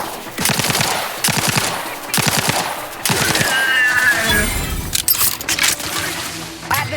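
Gunfire in The Outer Worlds 2, loud sustained bursts of rapid automatic shots close up, with brief pauses between volleys and no talking.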